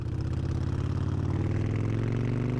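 Harley-Davidson Fury motorcycle engine idling close by, a loud, low, steady rumble with a fast, even pulsing throb that rises slightly toward the end.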